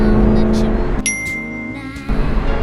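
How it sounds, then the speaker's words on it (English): A BMW M3 downshifting, its engine note dropping and rising in a loud, close burst with a brief tonal chime layered over the revs, surrounded by car noise. "Nothing beats this car's downshifts."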